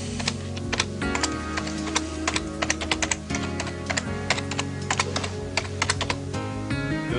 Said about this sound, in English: all you have to do is start typing.